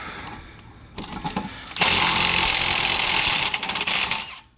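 A Milwaukee power tool with a 19 mm socket loosens a bolt during a Honda Ridgeline tie rod replacement, a short trigger blip followed by a loud sustained whir and a stuttering burst of impacts before it stops.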